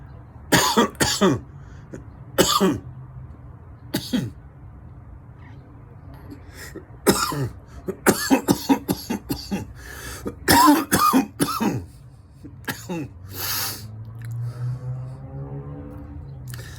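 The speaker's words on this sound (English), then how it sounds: "Sometimes coughing feels good." Repeated harsh coughing in bursts, some clustered in quick runs, with throat-clearing sounds between; loud and close, no talking.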